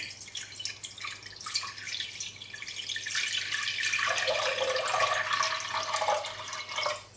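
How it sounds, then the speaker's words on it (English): Water is poured into a saucepan on a stovetop, a steady trickling and splashing that grows fuller and louder midway and then tapers off, close and quiet with no talking. "And I'll pour the water"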